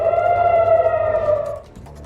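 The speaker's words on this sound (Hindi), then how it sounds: "तेल अवीव ने लगातार बज रहे हैं सायरन" An air raid siren wails in Tel Aviv as a steady tonal howl that holds, then drops away near the end, loud and fairly near.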